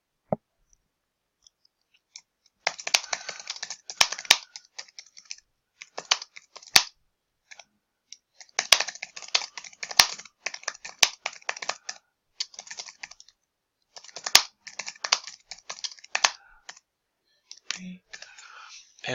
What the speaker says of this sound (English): I can type my question in here.